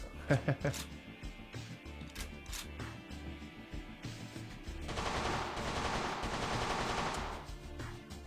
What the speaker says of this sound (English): So we can do a functions check and fire. We can put it on automatic.